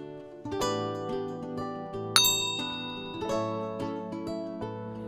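A bright notification bell dings over a sustained chiming tone, a clear struck ring rising in the middle of a short musical jingle with no talking.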